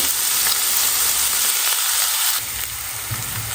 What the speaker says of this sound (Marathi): पॅनमध्ये तेल टाकलं कढीपत्ता जिरे कांदा कांदा छान परतून घ्यायचा